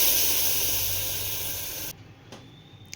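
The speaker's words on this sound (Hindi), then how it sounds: "और अब फटाफट से डाल देंगे हम टमाटर का पेस्ट।" Tomato paste goes into a hot pan just off the stove, giving a loud broadband hiss of sizzling that slowly fades for about two seconds, then drops abruptly to a quieter simmer with a few faint clinks.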